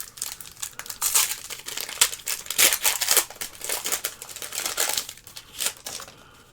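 Plastic wrappers on Magic The Gathering booster packs from a Marvel Spider-Man bundle crinkle and tear in close, rapid bursts, a continuous crackling of handled foil packaging with no talking.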